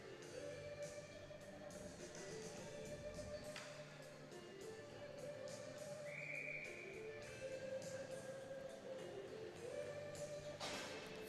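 A referee's whistle at an ice hockey game between the Dukes and the Rebels sounds as a short, shrill blast partway through, set against steady arena crowd noise and other game sounds.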